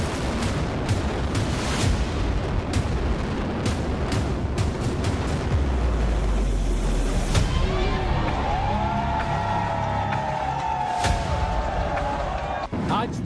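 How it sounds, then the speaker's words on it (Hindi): Controlled demolition blasts bring down the Twin Towers high-rise buildings: a dense run of sharp cracks and booms gives way to a deep rumbling roar, with crowd noise and voices talking throughout. "जब धमाका हुआ तो कुछ यूं था माहौल"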